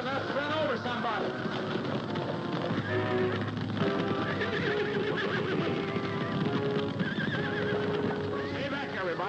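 Spooked horses in a TV western scene whinny repeatedly over clip-clopping hooves, loud and continuous throughout, with voices mixed into the dense soundtrack.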